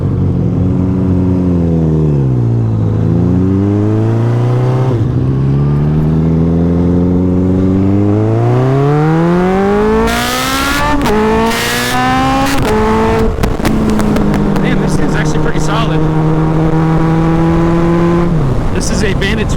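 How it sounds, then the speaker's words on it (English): A Suzuki Bandit 1200 motorcycle engine under way while riding, loud and close, rising and falling in pitch through several gear changes with wind noise, a voice briefly talking over it. "This is a Bandit 1200 and I just got on it."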